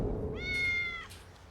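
A single clear, drawn-out cat meow rises and fades over about a second, heard up close against a low background hum.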